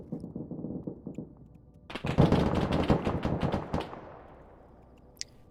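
Fifty-caliber machine guns fire in a video game, a dense rapid burst of shots lasting about two seconds that trails off into fading echo, following a low rumbling background.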